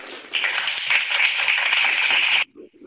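An audience at a product presentation gives the MC a round of applause: steady, fairly close clapping that holds evenly for about two seconds and then stops abruptly.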